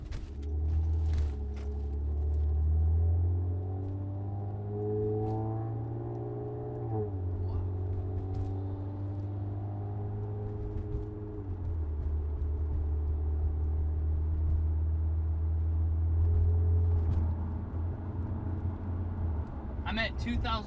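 A 2013 Honda Accord Coupe V6 with a Borla exhaust drives at regular speed, its low engine drone rising and shifting through gears, steady and moderate, while someone talks over it throughout.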